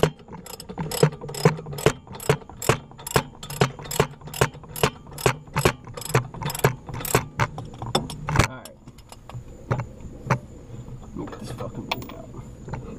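A regular wrench ratcheting on brake caliper bolts of an Audi B5 A4, a rapid run of sharp metallic clicks in steady rhythm close up, then slower scattered clicks and handling noises.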